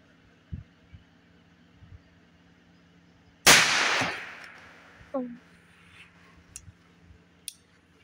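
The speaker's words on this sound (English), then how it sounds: "we'll see if we can take out all three of these cans here in one shot" A single close, loud gunshot from a Cimarron Thunderer .357 revolver fired at cans on an outdoor range, a sharp crack with a ringing tail, followed by a faint metallic ping and scattered quiet clicks.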